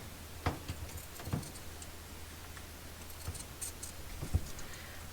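Scissors snipping through fabric for a handmade textile journal, a few sparse, separate clicks and snips spaced out across a quiet room, fairly close and soft.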